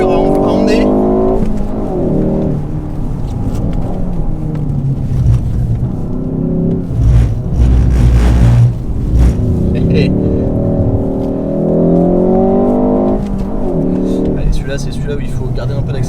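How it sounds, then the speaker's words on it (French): Ford Focus ST 2019 with a 2.3-litre turbo four-cylinder engine accelerating hard through the gears, engine note climbing in repeated rising sweeps with brief drops at shifts, heard from inside the cabin while people talk. "Le petit 4 cylindres 2 litres 3 turbo là, il est vivant, hein."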